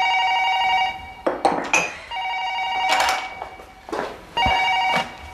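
A home telephone rings in repeated electronic bursts, each ring lasting about a second with short gaps between, fairly loud indoors with a few faint clatters.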